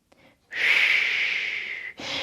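A long, steady inhalation during a Pilates ball exercise, loud and close with an airy hiss lasting over a second, followed by the start of another breath.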